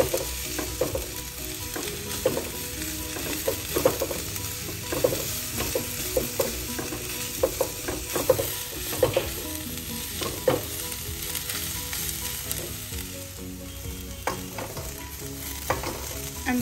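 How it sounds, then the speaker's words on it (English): Papaya stuffing with salt, garam masala and coriander leaves sizzles in a pan as a spatula stirs it, giving continuous frying crackle and frequent rhythmic scraping taps, close and alone. "And a quick stir."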